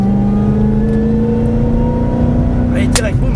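A Mustang on the Grand Sambuc circuit at a driving course, its engine holding a steady loud drone with a rising tone, then a short squeal near the end as the car brakes hard; someone talks over it.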